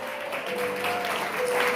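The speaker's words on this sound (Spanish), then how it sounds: "Un aplauso al Señor." A church congregation applauds during a Spanish-language Sunday morning service, a steady wash of clapping holding at even strength throughout with a faint sustained tone underneath.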